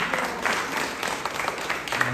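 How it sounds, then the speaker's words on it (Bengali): An audience at a music camp claps loudly, a dense steady patter of many hands. "আমরা আমার জোরে হাতের তালি দিয়ে শুরু করি"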